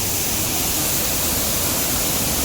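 Soormane waterfall near Kalasa in Chikkamagaluru during the monsoon roars nearby, a loud, unbroken broadband rush of falling water with no pauses.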